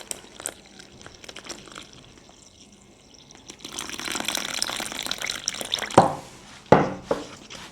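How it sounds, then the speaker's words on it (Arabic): Water poured from a cup into a bowl of spiced chicken seasoning mix for a broasted chicken recipe, a soft trickle building into a louder pour with a few sharp splashes near the end, close and without talk. "الآن راح ننزل عليها في المي، ممكن نحتاج حدود كوب ماء."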